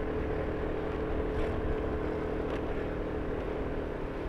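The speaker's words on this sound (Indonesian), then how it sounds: "motor agak ngeden di sini ya." A motorcycle engine drones steadily and close while climbing a rough uphill village road toward Bukit Batu Gunung Ciharang, with no pause in the strained running and no talking.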